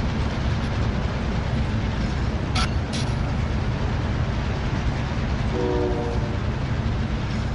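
Train in the video game Call of Duty Plunder rumbling along as a loud, steady roar with clattering, plus a brief high tone and a short horn-like blast near the end.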